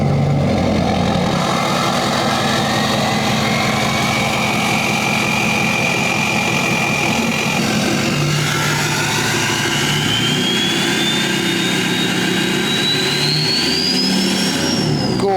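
A Gen 2 6.7 Powerstroke diesel engine fitted with a turbocharger runs loud and close, its deep engine roar holding steady while a rising turbo whistle climbs and spools through repeated revs, with no speech.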